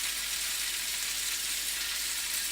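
Bacon, eggs and onion frying on a camping stove give a steady, even sizzle, close and moderately loud with no other sounds.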